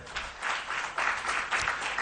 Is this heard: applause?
yes